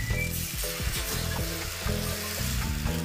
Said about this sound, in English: First, we have a pan heated up with a little bit of oil.